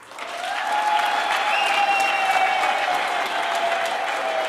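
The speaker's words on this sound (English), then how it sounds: "Let's applaud him." Audience applauds steadily at a vice-chancellor installation ceremony, a dense continuous clapping that swells in within the first half second and holds even and full throughout, with no voices over it.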